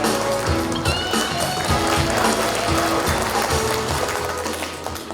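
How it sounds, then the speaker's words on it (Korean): A crowd applauds warmly to welcome a National Assembly member to the stage at a Korean book launch event, dense clapping filling the room alongside steady background noise. "여러분, 하태경 국회의원님을 따뜻한 박수로 맞아주시기 바랍니다."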